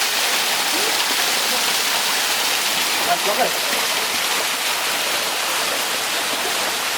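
Waterfall on a beach on Islay pours in a steady, full rushing roar close by, with a brief spoken remark over the water.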